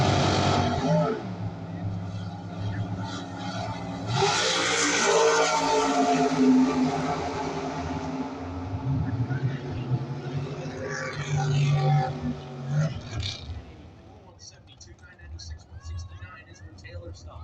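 A 1999 Dodge Dakota pro stock style drag racing truck with an extended cab roars loudly at a drag strip, its engine note rising and surging before dropping away near the end, with an announcer talking over it.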